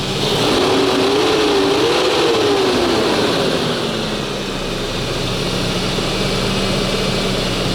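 A Renault car engine idles steadily after its idle air valve and throttle body were cleaned, a continuous loud running drone with a slowly wavering tone and no talk.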